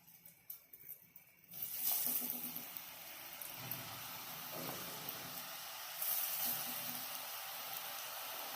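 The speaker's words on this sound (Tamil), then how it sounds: "ஹை ஃப்ளேமில் வச்சு இதை பொரிக்கணும்." French fry potato strips hit hot oil on a high flame, breaking into a loud, steady sizzle and bubbling hiss that continues without pause, with a faint clatter just before and no talking.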